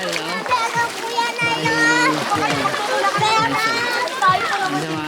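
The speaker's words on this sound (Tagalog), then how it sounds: "Ito si Nene, yan, naliligo" Children splashing while bathing in water outdoors in Casiguran, Aurora, Philippines, with busy, continuous splashes under lively children's chatter and shouting close by.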